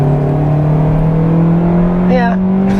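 A 2021 Kia Soul with a four-cylinder engine pulls out onto the road and accelerates, its engine drone rising steadily in pitch, loud and close from inside the cabin, with a brief voice near the end.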